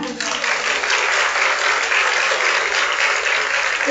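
Loud, energetic applause from an audience at an Independence Day student honor program at a computer center, dense continuous clapping held for the full stretch.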